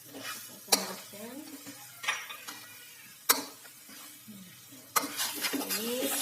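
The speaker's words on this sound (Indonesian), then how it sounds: "Kita masukkan, kita tumis, kita tambahkan minyak sedikit." Spices stir-fried in a little oil for beef rendang in a mosque kitchen, with repeated scraping stirs and sharp utensil clacks over a soft sizzle, close and moderately quiet with no talk.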